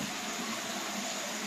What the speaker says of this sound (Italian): perché questa è una tubatura rotta o qualcosa di simile